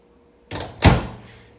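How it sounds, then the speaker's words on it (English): A microwave door swings shut with a soft first contact and then a firm, close thunk that rings out briefly, with no talk. "I'm going to go ahead and shut the door"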